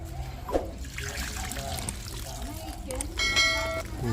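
Swamp water taken from a rice paddy is poured as fertilizer onto lemongrass, a steady trickling pour running throughout under a faint voice.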